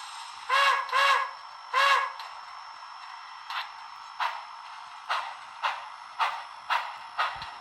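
A brass HO-scale Pennsylvania Railroad K4 model steam locomotive's synthesized sound from a Tsunami 2 decoder: a few whistle-like toots followed by regular rhythmic chuffs, fairly close and clear.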